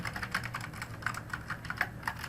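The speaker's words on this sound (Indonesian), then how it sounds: "Apakah kita harus mengetik secara manual, ketik ulang maksudnya ya, seperti ini" Typing on a computer keyboard while working in Microsoft Excel, quick irregular clicks of keys pressed one after another at a moderate level, with no talk.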